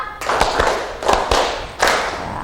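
Several groups of sharp hand claps ring out close by in quick bursts, counted groups of one, two, three claps during a teachers' training session, separated by brief pauses.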